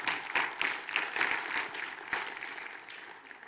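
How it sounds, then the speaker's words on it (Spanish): Church congregation applauding during a Spanish-language sermon, a steady wash of many hands clapping at moderate loudness that tapers slightly toward the end, with no talk over it. "Dele un aplauso al Señor."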